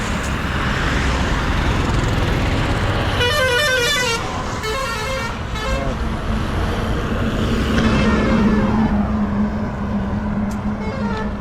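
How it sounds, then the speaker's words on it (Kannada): Vehicles, trucks and buses among them, rush past on a highway in continuous traffic, and a horn blares in a few bursts partway through before a heavy vehicle rumbles by. "ಸೊ ಯಾವುದೋ ಗಾಡಿ ಬರ್ತಾ ಇದ್ದಾವೆ"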